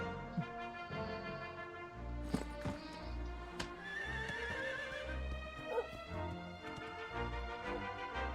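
In the video game Dragon Quest IX, a horse whinnies loudly over a rhythmic clip-clop of galloping hooves, with a steady musical backdrop throughout.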